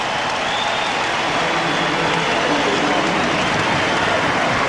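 Crowd in a basketball arena during a playoff timeout, Suns at Blazers in 1992, a steady, dense roar of cheering and applause with no breaks.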